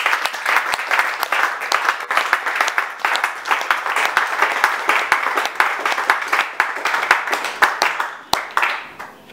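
Church congregation at a French-language Sunday service applauding together, steady loud clapping from many hands filling the room, with faint voices underneath.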